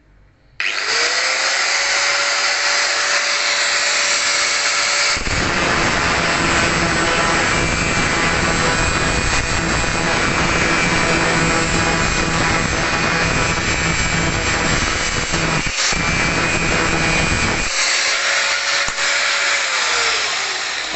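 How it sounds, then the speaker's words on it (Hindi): An angle grinder cuts into 304 stainless steel pipe for a spark test, a loud, steady, high-pitched whine held for about twenty seconds, rising as the disc bites into the metal and easing back at the end. "अभी हमने जब 304 वाले पाइप पर ग्राइंडर लगाया"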